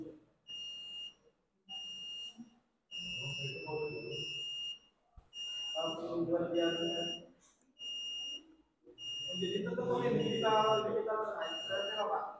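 A buzzer driven by an ATMega328 microcontroller sounds in repeated loud beeps, switching on and off in a regular pattern, with a voice talking over the later beeps.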